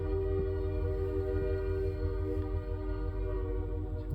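A CN freight train with SD75 and tier 4 locomotives departing West Ladysmith, a loud continuous diesel engine drone with strong low throb and a steady humming tone, heard close with no talking.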